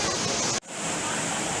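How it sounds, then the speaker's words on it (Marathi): A natural waterfall beside a rock garden at Tirumala, Tirupati, heard from a distance as a steady broadband rush, briefly cut off and then resuming, with no talk. "जो धबधबा आपण खालच्या साईडला पाहिला होता तर त्याचा आवाज इथे येत आहे"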